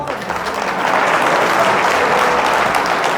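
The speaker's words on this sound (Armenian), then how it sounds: "ծափերով ցույց տվեք, որ ուրախ ենք" A wedding crowd in Gavar applauds the bride and groom with thick, continuous clapping that swells slightly after the start and stays loud and even.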